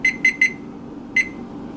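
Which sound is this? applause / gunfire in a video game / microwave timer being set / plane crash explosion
microwave timer being set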